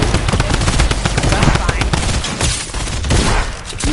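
A combat shotgun firing in a PS4 video game, a loud, dense barrage of shots crowding closely together over a few seconds.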